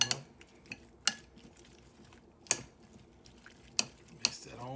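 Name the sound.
mixing homemade salsa with cayenne pepper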